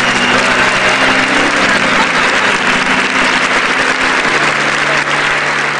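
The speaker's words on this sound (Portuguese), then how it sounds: "Uma salva de palmas para Maria" A crowd claps steadily in dense, sustained applause that stays loud and even from start to finish.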